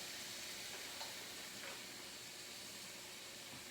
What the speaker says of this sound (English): my prosciutto is already working hard over here. Starting to crisp up on one side